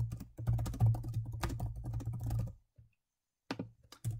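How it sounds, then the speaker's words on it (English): Fast typing on a computer keyboard, a dense run of close key clicks for about two seconds, a brief pause, then a few more keystrokes, with no speech. "I'll type it again."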